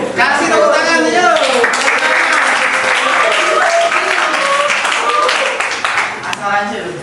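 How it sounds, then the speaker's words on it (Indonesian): Classroom applause from students during a group presentation session, loud and sustained clapping mixed with chatter and voices throughout. "Kasih tepuk tangan, ayo."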